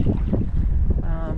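Wind blows steadily over a sailboat on the water off the Maine coast, a continuous close rush of gusting air with microphone buffeting and no voices.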